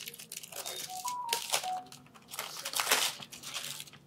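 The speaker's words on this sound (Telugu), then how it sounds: "దీని మీద ఉన్న పేపర్ తీసేయండి." Gift wrapping paper torn off a heavy package, close-up crinkling and ripping in several bursts with brief quiet gaps and a few faint tonal blips in the background.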